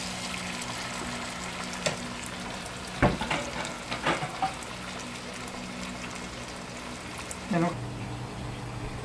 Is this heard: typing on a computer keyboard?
no